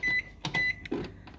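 A microwave oven running at full power while poaching an egg, with short bursts of hum and beeping tones that recur in quick succession, close and fairly quiet.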